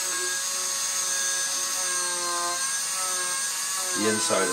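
A Dremel rotary tool cuts eye holes in a mask, a high, steady whine that shifts pitch slightly as it works. Near the end a voice starts talking over it.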